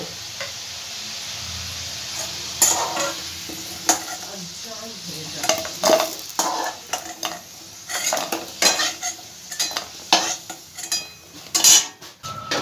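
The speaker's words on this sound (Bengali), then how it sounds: "আলুটা আমার খুব ভালো করে ভাজা হয়ে গেছে।" Potatoes fry in oil in a pan, their sizzle punctuated by frequent clinks and scrapes of a metal utensil stirring against the cookware.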